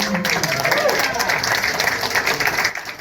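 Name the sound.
audience applause at Hollywood Museum event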